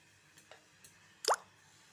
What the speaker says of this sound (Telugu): పాకం చేసి పెట్టుకున్నాం కదా ఇది చల్లారిపోయింది దీన్ని దీంట్లోకి వేసేసేయాలి